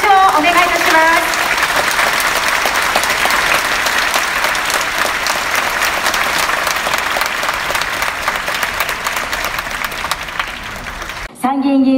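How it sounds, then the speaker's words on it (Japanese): Audience in a hall at a 2022 election campaign speech in Okayama breaks into sustained loud applause lasting many seconds, dense and steady, with a voice heard briefly at the start and again as it ends. "大きな拍手をお願いいたします。"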